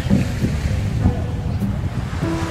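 Sea waves wash against the shore at Sealine in Qatar during a fishing outing. The surge rolls steadily and close, with low rumbling water and wind buffeting the microphone throughout.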